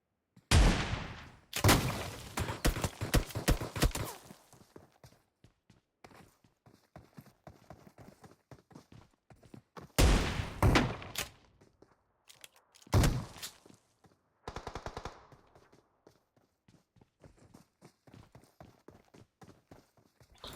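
Gunfire from a battle royale video game comes in loud rapid bursts separated by quiet gaps, one long volley and several shorter clusters of shots.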